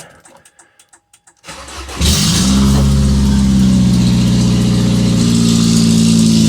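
A few faint clicks, then a car engine cranks and roars to life, settling into a loud, steady idle close by.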